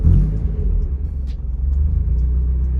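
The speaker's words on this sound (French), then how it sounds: "quand j'accélère, ça fait monter mes tours minute et elle est à 2 doigts de caler" A Mazda Miata engine rumbles close by at low revs as the throttle is blipped. It sounds rough and nearly stalls, pointing to a suspected belt fault. The steady, heavy drone carries no speech.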